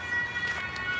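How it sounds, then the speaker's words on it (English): An emergency vehicle siren wails in a Leipzig city street, heard from a high-rise viewing platform, a faint, distant wavering tone rising and falling over a light urban hum. "Another siren."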